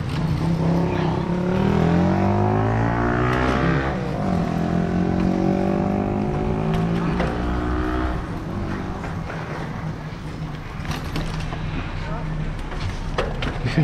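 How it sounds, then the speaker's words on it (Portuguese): A car approaching and passing on a street at a motorcycle meet, its engine note rising and revving, heard under loud nearby chatter with bikes idling around. "Olha o carro vindo."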